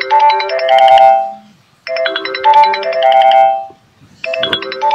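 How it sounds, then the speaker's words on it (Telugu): A phone plays a bright, melodic ringtone in three loud repeating bursts separated by short gaps, close and clear with no talking. "ఫోన్ వస్తుంది డాడీ."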